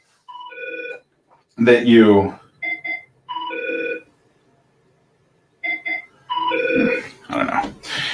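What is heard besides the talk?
desk phone ringing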